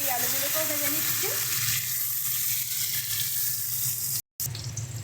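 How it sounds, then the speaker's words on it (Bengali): Steamed potatoes fry lightly in a pan, giving a steady, moderate sizzle that runs continuously with a brief silent cut near the end; a voice speaks faintly at the start. "হালকাভাবে এই আলুগুলোকেও ভেজে নিচ্ছি"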